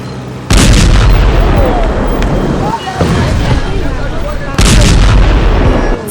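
Fuel tankers blowing up in a burning yard holding seized trucks of illegally refined petroleum products, heavy booming blasts and roaring fire with loud bursts at the start and near the end, voices faintly present.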